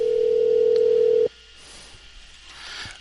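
A telephone line gives a steady electronic tone for just over a second, then cuts off abruptly, leaving quiet line hiss during a podcast call.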